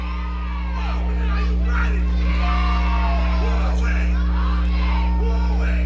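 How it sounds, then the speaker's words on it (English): Championship-game football crowd at the New England Football League title match, a dense, steady roar of cheering and chanting voices with whoops rising and falling throughout, loud and continuous over a low droning hum. "you might be able to hear that crowd cheering, "Who are we, Albany?""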